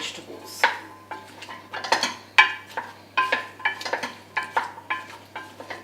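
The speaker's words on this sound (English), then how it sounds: "making sure that it's all the onion and the oil is stirred through the vegetables" Onion, oil and vegetables are stirred in a pot, a utensil scraping and knocking against the metal in irregular strokes, close and distinct with a faint sizzle beneath.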